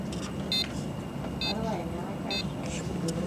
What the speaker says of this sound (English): So now it'll beep once and one of these lights will flash.